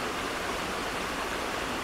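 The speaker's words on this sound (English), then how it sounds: "looking down on the stream, there's this small cascade stroke waterfall" A small cascade on a mountain stream pours steadily, a dense, even rush of falling water heard close and alone, with no voices.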